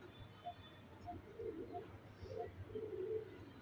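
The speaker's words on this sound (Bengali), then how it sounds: "এটা খাকি নর কবুতর" A khaki male pigeon coos softly in a loft, with several short, low, throaty coos in an uneven series, faint and close with no talking.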